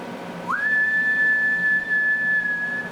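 A steady whistled tone goes into a President Lincoln 2 CB radio microphone, rising quickly at the start and then held level for over two seconds, loud and clear over faint hiss with no talking.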